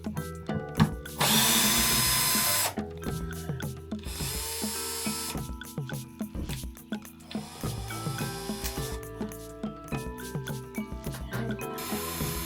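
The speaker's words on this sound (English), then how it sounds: "So I'm just gonna unscrew those." A power drill unscrews loop clasps from a ceiling while bamboo poles are fitted over wiring in a home tiki bar. The drill whirs in repeated close bursts, with one long high run near the start and shorter stop-start pulses after.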